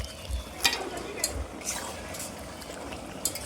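Seven kilos of mutton go into spice paste fried in oil, giving a steady sizzle and frying hiss with a few clattering stirs and scrapes and a low thump or two as the meat lands.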